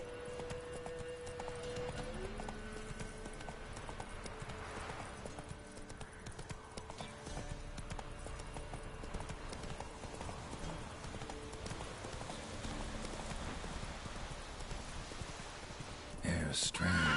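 Hooves of Geralt's horse Roach trotting in The Witcher 3, a steady clip-clop rhythm over quiet ambient scoring that runs throughout, ending with a louder burst of noise at the close.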